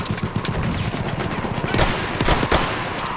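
Gunfire in the video game Battlefield 1, a dense run of rapid shots and bursts over continuous battle noise, loud and sustained throughout.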